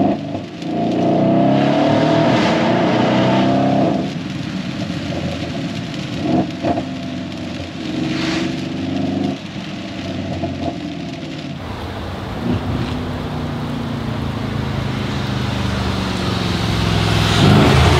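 A 650+ hp Mercedes GLE63S AMG with a custom decat exhaust drones from inside the cabin while driving, with rising revs, brief pops and a steadier cruise, moderately loud throughout.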